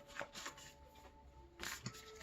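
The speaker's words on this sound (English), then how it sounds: "Let's just continue shuffling." Tarot cards being shuffled by hand, quiet papery riffles and soft flicks in a few short bursts, close and low in level.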